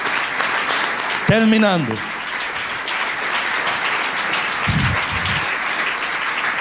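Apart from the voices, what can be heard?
congregation applause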